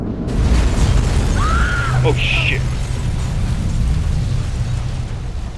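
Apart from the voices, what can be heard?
oil truck exploding on a bridge in video game Batman Arkham Origins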